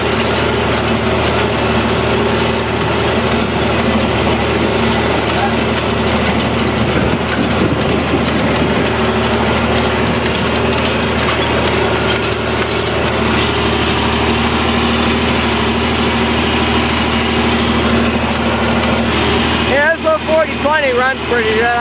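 A tractor engine running while raking hay, a loud steady rumble with rattling machinery throughout. Toward the end the engine noise drops and a voice is heard.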